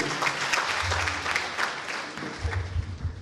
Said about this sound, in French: Sous vos applaudissements, nous l'accueillons.